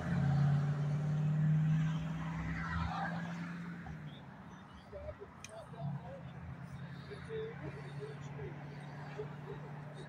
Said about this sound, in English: There goes that Camaro.